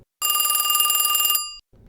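An old telephone bell rings in one sustained, bright electric trill just over a second long, then cuts off and leaves a brief fading tail.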